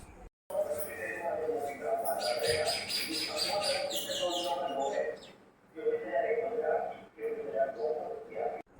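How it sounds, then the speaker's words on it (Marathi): Birds chirp and call outdoors throughout, a lively chorus with a brief pause near the middle, heard at moderate distance. "बाहेर किती छान पक्षी ओरडलेला आवाज येत होता ना मस्त वाटलं सकाळी सकाळी"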